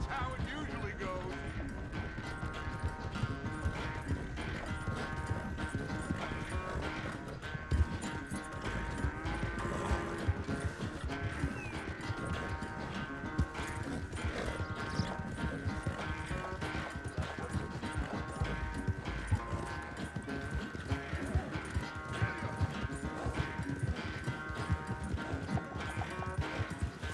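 Horse hooves gallop in Red Dead Redemption 2, a fast, continuous clip-clop during a race, heard steadily under game music while voices talk over it.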